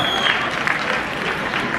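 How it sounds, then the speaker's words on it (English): Crowd applause at a business keynote seminar, a dense continuous patter of many hands at fairly loud, even level, with faint voices mixed into the clapping. "Round of applause for these people."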